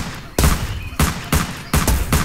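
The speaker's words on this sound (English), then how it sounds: "fire my gun" Four loud, evenly spaced gunshots from a World War-era pistol in Hitman: Blood Money, each a sharp close crack with a short decaying tail.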